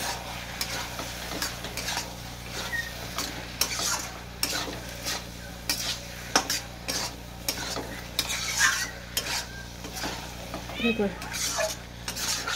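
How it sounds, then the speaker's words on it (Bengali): Raw shrimp with turmeric is stirred in a pan, a soft sizzle under scattered scraping and clinking of a utensil against the pan, fairly quiet and close. "আবার হলুদটাকে দিয়ে নেড়ে চেড়ে নেবো।"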